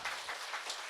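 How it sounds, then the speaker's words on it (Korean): A lecture audience breaks into brief applause, a quick burst of clapping that lasts only a moment at moderate distance. "박수."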